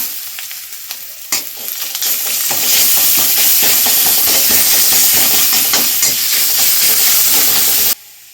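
Onion and garlic paste with whole spices sizzles loudly and steadily in hot oil, a dense continuous hiss with occasional stirring scrapes, close by and without talk.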